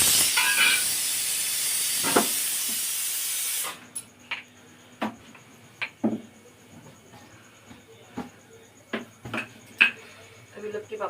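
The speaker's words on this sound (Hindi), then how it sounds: "कुकर सीटी देने लगा है गाइस।" A home kitchen pressure cooker lets out a loud, steady hiss of escaping steam for several seconds, then cuts off abruptly, followed by scattered clinks of pots and utensils with a voice talking nearby.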